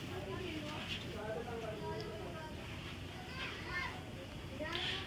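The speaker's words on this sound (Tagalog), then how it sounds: "Ang ingay na nga maglaro, di ba?" A crowd of children playing noisily outdoors, a dense continuous babble of young voices with shouts and calls rising over steady background noise, far to moderately near.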